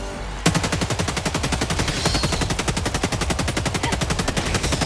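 After a brief pause, an energy gun in Helldivers 2 fires a long, rapid, evenly spaced stream of loud shots that continues without a break to the end.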